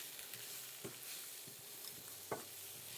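Potatoes coated in spices frying in a pan with peas and spinach for vegetable samosa filling, giving a steady close sizzle broken by a few soft stirring scrapes and clicks, with no voices.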